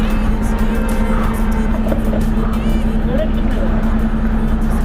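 A Royal Enfield GT650 650cc motorcycle fitted with a Code6 tuned exhaust idles with a steady low drone while people talk nearby in the street.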